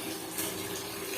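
Water running from a tap while a child splashes in it, a steady, fairly faint rushing wash with a slight surge partway through; no talking.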